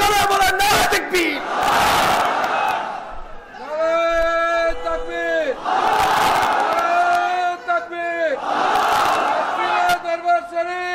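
A large crowd at a Sufi dargah gathering in Sarsina Darbar Sharif erupts in loud, rhythmic chanting of the takbir, three surging bursts of massed voices with a lead voice calling between them.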